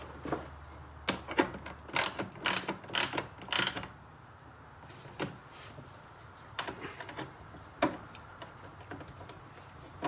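Clicks and rattles of a hand ratchet tightening the bolts on a radiator cover of a 4th-gen Toyota 4Runner, delivered in quick bursts of sharp ticks near the start, then scattered single clicks, close and fairly quiet with no talking.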